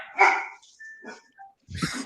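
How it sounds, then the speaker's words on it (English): Several dogs barking in short yelping bursts indoors, with a brief pause between volleys and a louder, closer bark near the end. "I don't know what they're barking at."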